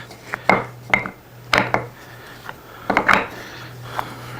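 Metal sockets from an old-school socket set clink and clatter as they are picked up and set down, several sharp, close knocks at an irregular pace with no talk.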